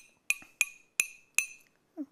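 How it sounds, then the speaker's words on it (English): Four bright, evenly spaced clinks of a glass ring out close and clear, each chiming briefly before fading, followed by a short soft sound at the end. "There's the sound of the glass,"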